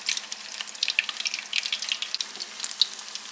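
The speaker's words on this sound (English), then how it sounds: "Now you want to fry them till they're a golden brown, just like this." Grit puppies, fritters made from grits with a breadcrumb coating, fry in hot oil with a steady, close crackling sizzle and dense bright pops throughout.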